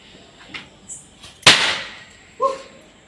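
A Diwali firecracker bursts once, a sharp loud crack with a short fading tail, set among smaller pops and rustles before and a brief sharper snap after.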